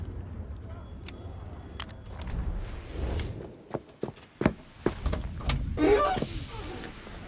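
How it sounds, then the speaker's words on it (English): In a video game, a car door clicks open and shuts with thuds and shuffling as someone climbs into the passenger seat, after a steady low hum. "opens the door of your car and gets into the passenger seat"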